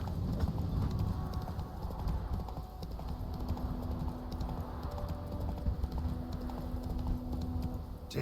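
Hooves of Roach, the horse in The Witcher 3, drum out a steady galloping clip-clop close by, with a soft tapping mixed in throughout.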